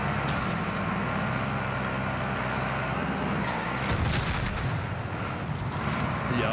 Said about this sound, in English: There's some explosions going on.